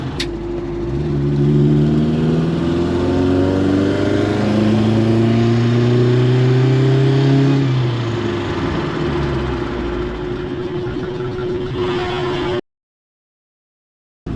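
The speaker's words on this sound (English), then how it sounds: "at 80 kilometers an hour we're going to brake" A car accelerates to about 80 km/h for a brake test during a Swedish vehicle inspection. The engine note climbs through several gears, then falls away as it brakes, and the recording cuts to silence at the end.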